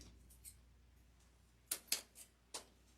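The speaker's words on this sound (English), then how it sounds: "Trim some of these down" Scissors snip ribbon bow tails on a Christmas grapevine wreath: four quick, crisp cuts close by, one faint snip before them, over a quiet room.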